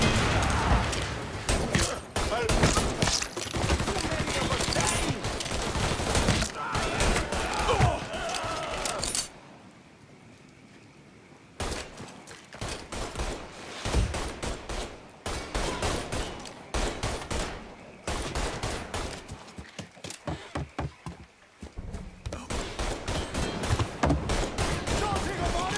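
Rapid bursts of gunfire in a Mafia 3 video game shootout, loud repeated shots in clusters with short pauses, one longer lull, and voices talking over the action.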